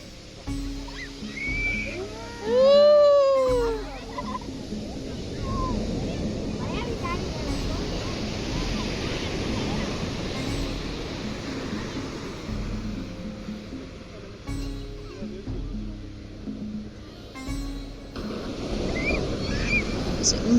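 Ocean surf rolls onto the beach at Azhimala in Kerala as a steady wash of waves and wind, with a brief sweeping whistle-like call early on and people talking intermittently over it.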